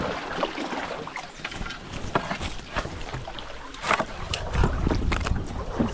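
Kayak paddles splash and dip in an irregular rhythm on the Siesartis river. The strokes are close and moderately loud, with light wind noise around them.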